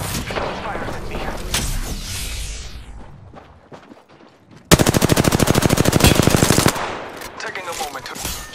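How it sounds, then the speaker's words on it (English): Automatic gunfire in Apex Legends: a sustained rapid burst of shots lasting about two seconds, loud and close, preceded by scattered shots and game effects, with more combat noise trailing after. "Shots fired at me."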